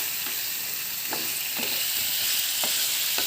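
Chicken chukka stir-frying in a pan, a steady close hiss of sizzling oil with a few soft scrapes and stirring taps spaced through it, no voices.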